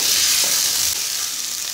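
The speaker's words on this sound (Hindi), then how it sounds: "अब मैं इसके अंदर डाल दूंगी ये लहसुन अदरक का पेस्ट और इसको करेंगे 1 मिनट के लिए फ्राई" Garlic-ginger paste fries in a karahi for chicken white karahi, a loud, steady close sizzle lasting under two seconds.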